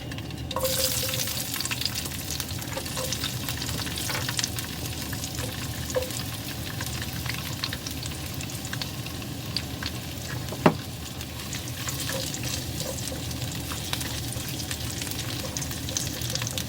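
Halved, trimmed asparagus sautés with carrots in a hot pan, a dense continuous sizzle with occasional light stirring scrapes and one sharp knock, close and steady throughout.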